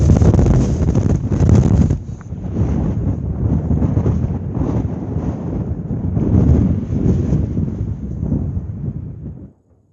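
Strong mountain wind buffets a microphone high on Cadair Idris, a loud continuous roar with gusting surges that runs unbroken for most of the stretch before cutting off abruptly near the end.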